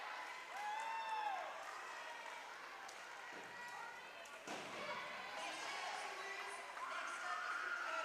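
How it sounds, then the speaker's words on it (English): Crowd applause and cheering echo around an indoor pool at a girls' high school swim meet, a diffuse, steady wash of noise with faint whistle-like tones and muffled voices underneath. "And a round of applause all around for Piper Burrell"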